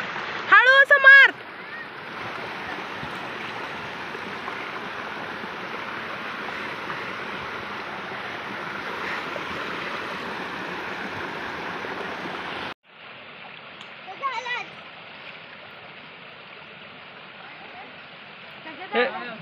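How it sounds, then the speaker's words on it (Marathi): The Shukracharya waterfall sends out a constant rushing hiss of falling water that drops off abruptly partway through, with people's voices cutting in briefly at the start and again later. "आता पाण्याने तोंड दाखवलंय धबधबा."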